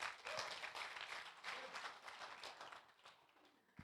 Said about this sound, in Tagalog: Palakpak po natin si Jesus